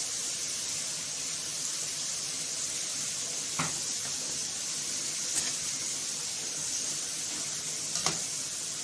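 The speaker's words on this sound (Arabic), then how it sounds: "بفضل اضيف كل قطع اللحمه بتاعتي زي ما احنا شايفين" Pieces of meat for a soy sauce and mushroom beef piccata sear in a frying pan with a constant, fairly loud sizzling hiss, broken by a few brief pops and crackles.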